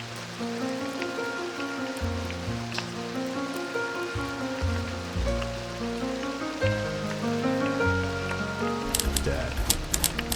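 Soft, steady rain falls alongside a slow, low piano melody, with scattered drops and patter over the gentle musical notes.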